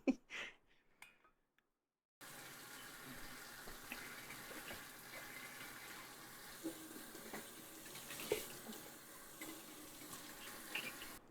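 Homemade mead running through a siphon tube from one container into another, a steady trickling, gurgling flow that begins abruptly after a short quiet start and carries on faintly to the end.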